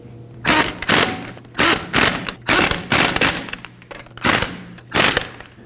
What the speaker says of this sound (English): We'll go ahead and snug those down in a crisscross pattern with a 21 millimeter.